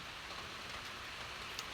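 Steady rain pours down on a chili and eggplant farm during the rainy season, heard from under a small open shelter as a dense, even hiss with no voices.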